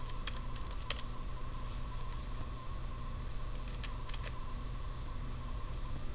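Light keystrokes on a computer keyboard, steady and soft, with a few sharper clicks over a constant low electrical hum and no voices.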